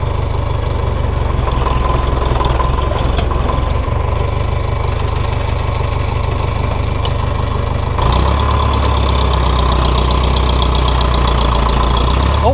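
A tractor engine pulling a plastic mulch layer across a field, a loud, close, continuous low rumble with a knocking diesel texture that swells slightly partway through.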